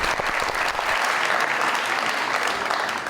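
Studio audience applause greets Khalid Ranjha on a Pakistani TV talk show, a dense, steady clapping that fills the whole stretch without letting up.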